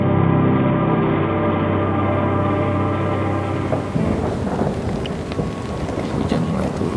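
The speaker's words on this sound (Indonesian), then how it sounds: "Hujan mulai turun." Heavy rain pours steadily on a mountainside at night with rumbling thunder, a broad continuous wash that grows rougher and more textured midway, loud and close with no talk.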